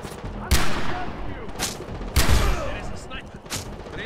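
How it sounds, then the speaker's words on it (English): Gunfire in the Far Cry 3 video game, several sharp single shots spaced about a second apart with a lighter pop between, loud and close, under faint talk. "Shooting from here with my close range weapons"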